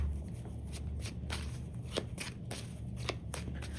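A deck of tarot cards is shuffled close by. Soft, irregular riffling and tapping bursts repeat over a few seconds in a quiet setting.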